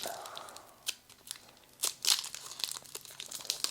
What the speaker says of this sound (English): We're going to get into our last pack of Temporal Forces. So let's go ahead and rip this one open